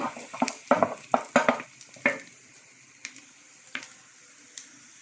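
Onions frying in a pan for Saudi-style kabsa, a run of close, sharp sizzling bursts and stirring scrapes early on, then sparser single crackles spaced out toward the end, with no talk.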